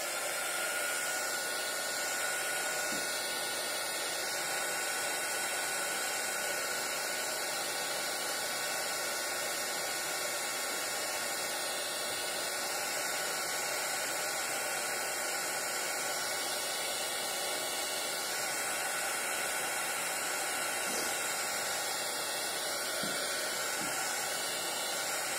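A hair dryer blows steadily and loudly for the whole stretch, drying structure paste on a mixed-media notebook cover, with a constant rushing hiss and no speech.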